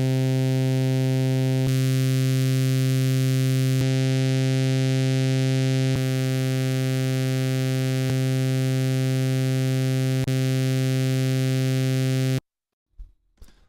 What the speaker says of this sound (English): So that's the typical SEM sound there.